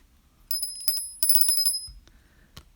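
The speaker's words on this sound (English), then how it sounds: "Ring that bell." A small bell rings with rapid bright dings in two short bursts, close and clear, followed by a soft thump.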